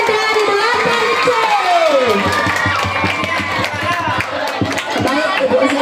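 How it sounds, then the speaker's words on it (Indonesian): Crowd at a school quiz competition final cheering and shouting in a hall, a continuous loud roar of voices with scattered clapping and children's calls throughout, with a voice speaking over it. "Kasih tepuk tangan untuk kelas 7D dan 8C"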